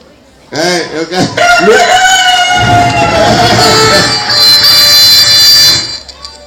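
A loud, close rooster crows in a long drawn-out call, preceded by a few short clucks, with a crowd murmuring faintly underneath.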